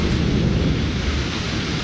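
Heavy thunderstorm in Orlando, Florida, with steady loud rain and rolling thunder rumbling continuously underneath, no voices present.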